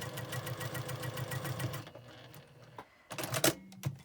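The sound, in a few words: sewing machine stitching fabric seam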